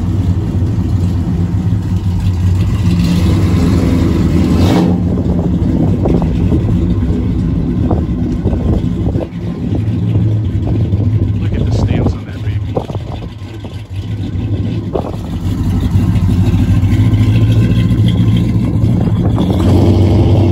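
A deep 1968 Dodge Charger Hemi V8 idles steadily nearby through dual exhaust with Flowmaster mufflers, occasional revs and a throaty exhaust tone, dipping briefly in the middle before building again.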